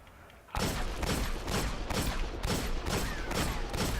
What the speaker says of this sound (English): you're just going to shoot your gun off as fast as you can after ADSing